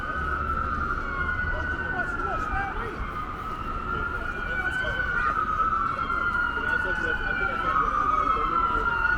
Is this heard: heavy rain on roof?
no